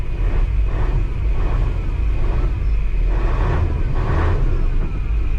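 A 1984 Nissan tractor truck's diesel engine idles nearby with a loud, continuous low rumble and a faint rhythmic pulsing throughout.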